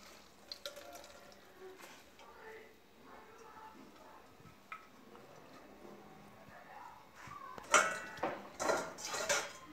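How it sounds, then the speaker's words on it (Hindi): Dried fenugreek leaves being washed in water in a bowl, with clinks and clatters of a bowl and utensils and light splashing, quiet at first then a louder burst of clattering and sloshing near the end; faint talk in the background. "अब इसको 3-4 पानी से हम वॉश कर लेंगे"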